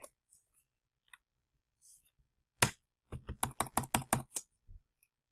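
Keystrokes on a computer keyboard while coding HTML: a single click, a pause, then a quick run of about a dozen close, crisp taps, with faint breathy sounds before.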